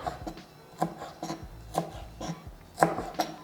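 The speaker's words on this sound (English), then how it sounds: "I also have some dill here, just giving it a rough chop." Knife roughly chopping fresh dill on a board, a series of sharp, close thuds arriving in an uneven rhythm with short pauses between strokes, no talking.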